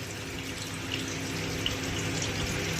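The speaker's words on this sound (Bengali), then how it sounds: "এইগুলোকে আমি ভালো করে ধুয়ে নেব। ধুয়ে একদম চিপে নিংড়ে নেব, যাতে একটু জল না থাকে।" Tender neem leaves are washed in water, giving a steady close splashing and running-water wash with faint dripping, no voices over it.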